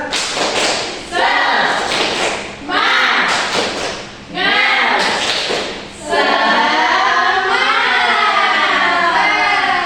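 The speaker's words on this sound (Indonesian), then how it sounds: "Tepuk semangat" A class of schoolchildren performs a rhythmic spirit clap, with loud group claps in several bursts separated by short pauses and young voices chanting along, ending in a longer, sustained stretch of clapping and voices.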